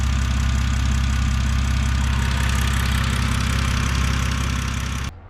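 A 2006 BMW 325xi engine idling as it warms up: a steady, even mechanical hum held at constant loudness for about five seconds, then cutting off abruptly.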